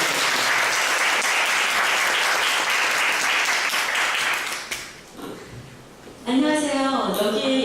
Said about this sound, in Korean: 지금 떨릴 것 같으니까 박수로 맞아주시고